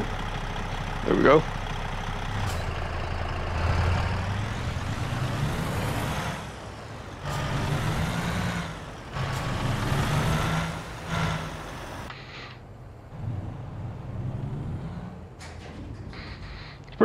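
Truck engine idling in American Truck Simulator, a new LoneStar truck with a trailer attached: a steady low rumble runs throughout, fairly quiet, with brief hiss and mechanical shifts along the way.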